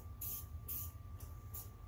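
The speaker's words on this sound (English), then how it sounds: "Spray a little WD-40 to kind of" Several short WD-40 aerosol spray bursts hiss in a rough rhythm over a low background rumble, each burst lasting a fraction of a second.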